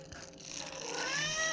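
A cat lets out a single drawn-out meow that rises in pitch and grows louder as it goes, heard up close in a quiet room with no talking over it.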